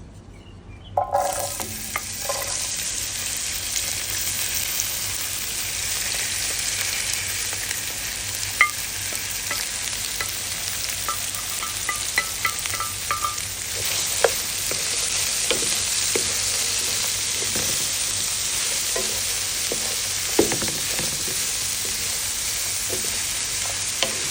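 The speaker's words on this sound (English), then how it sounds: "We just want to saute this just for a few minutes to kind of break some of that rawness in our veggies" Carrots, okra, pumpkin, red onion, garlic and scallion sautéing in a pan for a snapper stuffing, a steady loud sizzle throughout with occasional scrapes and taps of a utensil stirring, close up and without talk.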